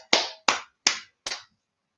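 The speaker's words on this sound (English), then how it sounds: "Clap it up." Four sharp, close hand claps land at a steady, slightly quickening pace, each a crisp isolated smack with a short decay, alone with no voices.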